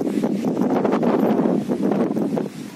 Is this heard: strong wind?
yes